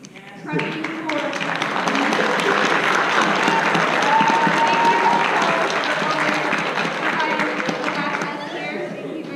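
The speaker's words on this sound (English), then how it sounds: "One round of applause." A school theater audience applauds after a high school play, sustained dense clapping that swells in and holds steady with some cheering and voices mixed in.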